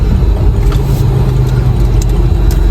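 A car turning around on a road near closed shops, its engine a steady low rumble close by, with no talk over it.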